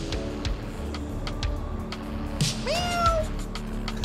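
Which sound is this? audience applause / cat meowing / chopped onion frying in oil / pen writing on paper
cat meowing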